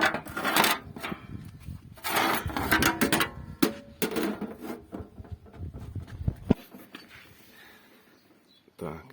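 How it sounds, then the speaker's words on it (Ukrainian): Scraping, rubbing and knocking of metal and wood as the loosened cover plate comes off a horse-drawn seed drill set for sowing soybeans or peas, with someone speaking over the handling noise before it goes quiet. "Значить, знімаємо щитко, я вже відкрутив його."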